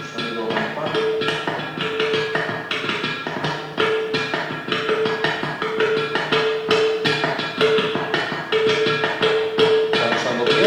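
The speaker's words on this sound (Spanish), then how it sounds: "He puesto el litófono de Malpaso que tienen aquí, para sonidos de campana." The Malpaso stone lithophone is struck over and over in quick percussive patterns, giving short bell-like ringing tones that pile up into a busy rhythmic texture recorded close up.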